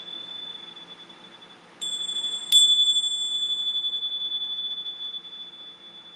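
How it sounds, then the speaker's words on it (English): A bell rung during a tarot reading gives a sharp, clear metallic strike with a long bright sustained ring that slowly fades, following a fainter tone, with no talking. "I'm going to ring a different bell for this."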